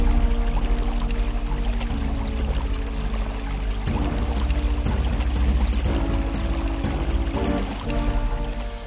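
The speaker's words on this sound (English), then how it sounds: "Like here, you can hear wind or running water" Wind and running water in an icy landscape from the DOS game Dark Forces, a continuous rushing wash with a few brief louder surges.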